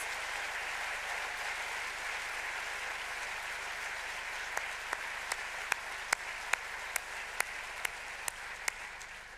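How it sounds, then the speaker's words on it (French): Sustained audience applause for a trio at the FIFF 2016 opening ceremony, a steady wash of clapping from a large crowd with several sharper individual claps standing out near the end. "je pense qu'on peut les applaudir encore une fois pour leur performance"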